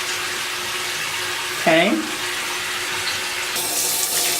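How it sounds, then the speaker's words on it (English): Lukewarm tap water runs steadily while feet are rinsed, a broad continuous hiss and splash, with a brief voiced word cutting through midway. "I am rinsing my feet off in like lukewarm water, so not too hot, not too cold"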